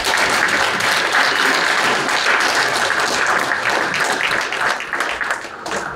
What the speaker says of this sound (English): So big round of applause for these lifesavers.